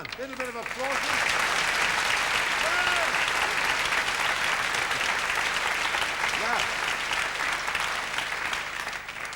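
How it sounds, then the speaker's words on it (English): A studio audience claps loudly and steadily after an Irish tune on a 1984 Christmas TV special, the applause rising over the tune's closing notes and holding full and even throughout. "A little bit of applause."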